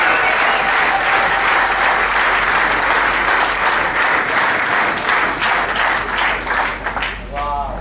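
A large audience at a Christian leaders' anniversary gathering in Melbourne claps in sustained, dense applause that fills the room, while a voice keeps speaking over it before the clapping thins at the end.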